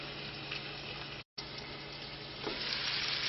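Elk liver and onions sizzle steadily in a hot pan, a continuous close frying hiss that cuts out briefly, then returns slightly louder and brighter with a faint stirring scrape.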